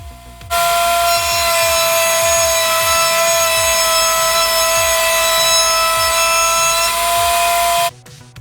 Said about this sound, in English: I'm using my router table to round up the edges at the outer side of the face.